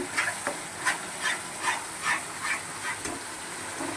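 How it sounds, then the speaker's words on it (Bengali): Masala spice paste being stirred and fried in oil in a pan for a Bengali dish, with regular scraping strokes about every half second over a steady soft sizzle, close and moderately loud. "একটু মশলাটা তো খুব ভালো করে কষাতে হবে না।"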